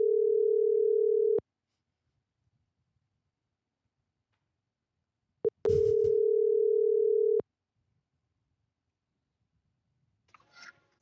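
A phone ringback tone plays while calling a dog grooming salon: two long, steady, loud rings separated by a silent gap, followed by a brief click and faint sound as the line is answered.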